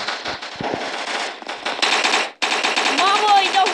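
Rapid automatic gunfire in the Block Strike shooter game, bursts of loud close shots with a brief pause midway, while a player talks over them.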